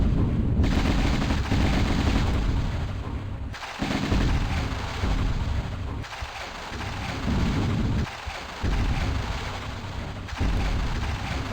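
Sustained gunfire from shooting in Tomb Raider Remastered, dense and loud with a few brief pauses, rumbling and booming throughout with no talk.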